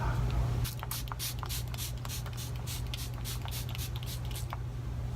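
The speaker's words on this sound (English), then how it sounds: "I'm just going to spray this all over my face" About ten quick hissing spritzes of MAC Fix Plus setting spray misted onto a face in a steady rhythm, close and fairly soft, with no talking.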